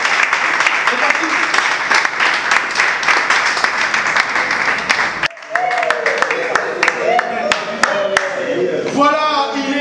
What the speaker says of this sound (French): sous vos applaudissements, nous recevons les heureux candidats présidents